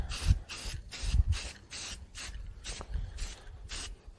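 A spray gun hisses in short, evenly spaced bursts, about eight in a row at close range, applying red paint to a freehand-carved teak wood project.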